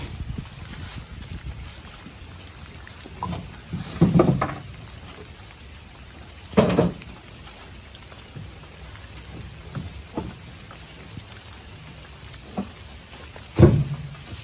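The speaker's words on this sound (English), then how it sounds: "Raining out here, y'all." Rain patters steadily on a nearby surface, with occasional louder thumps and knocks breaking through.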